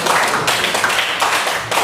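A classroom group clapping hands together, producing dense, loud, close applause that runs throughout the short burst.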